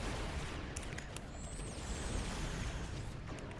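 Starship weapons open up in Star Trek Online as torpedoes are fired, making a dense, continuous barrage of booms and crackling blasts. A few sharp, high sweeping zaps cut through, and no voices are heard.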